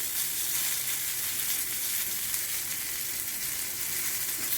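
Steak sizzling in a very hot frying pan, a dense, steady hiss and crackle of frying that holds evenly throughout with no talk.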